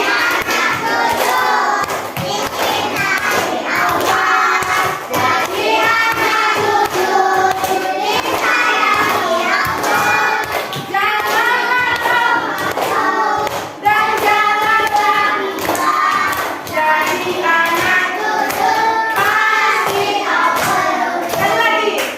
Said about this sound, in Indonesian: Sama tepuk tangan ya.